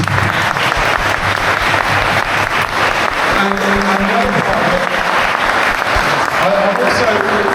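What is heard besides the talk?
audience applause in a room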